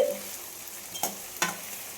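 Washed curry leaves sauté in a pan for a seer fish (vanjaram) curry, giving a faint, quiet sizzle broken by two sharp clicks of a spoon stirring against the pan.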